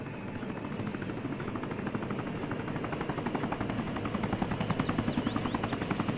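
A helicopter from the military shooter game Arma 3 keeps up a loud, continuous rotor beat that swells toward the end, with sharp clicks scattered over it and no voices.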